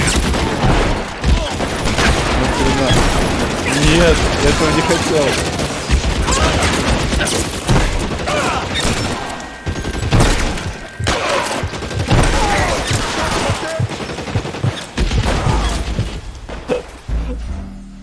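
Gunfire from a weapon in the video game L.A. Noire, a loud burst of shots and booms layered over game noise, with someone talking throughout.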